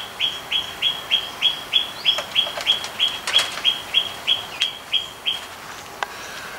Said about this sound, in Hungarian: Mindegy, Mina madár lesz a háttérben.